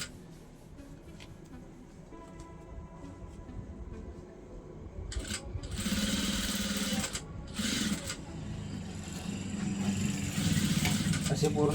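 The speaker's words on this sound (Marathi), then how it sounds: "नंतर वरून शिलाई टाकून घ्यायची." Sewing machine hums and stitches steadily, close up, while topstitching a zipper into trousers, with a person speaking over it throughout.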